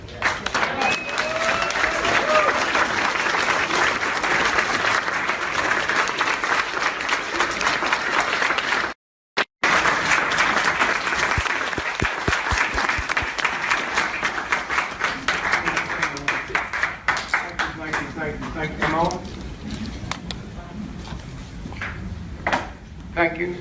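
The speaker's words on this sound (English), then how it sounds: "give a resounding round of applause and a standing ovation to the Honorable Dick Gregory" A large audience applauds at a live event, with a long, loud, dense round of clapping and cheering. A brief dropout comes partway through, and the applause thins into scattered claps toward the end.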